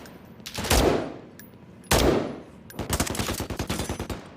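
Enemy turret gunfire in Call of Duty MW3, with two heavy booming bursts followed by a rapid rattling string of automatic shots, loud and close, with no talking.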